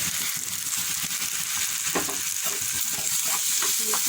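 Ground masala paste frying with onions in a pan for raw papaya pulusu, a steady close sizzle with scraping stir strokes throughout, no voices.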